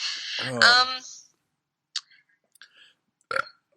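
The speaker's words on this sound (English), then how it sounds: "When you burped, you kind of let yourself go on that one." A loud, drawn-out burp, close by, followed by a few soft clicks and small mouth noises in the quiet.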